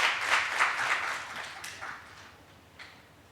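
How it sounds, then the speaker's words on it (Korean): A church-hall congregation claps for a skit, a short burst of scattered hand claps that thins out and dies away within a few seconds, with a lone clap near the end. "많은 박수로 응원 부탁드리겠습니다."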